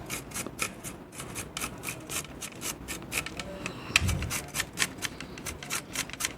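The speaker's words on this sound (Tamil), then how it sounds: "இப்போ கேரட்டை துருவ ஸ்டார்ட் பண்ணிடலாம்." Fresh carrots are grated by hand for carrot halwa, giving a steady run of quick, even rasping strokes close to the mic throughout, with no talking.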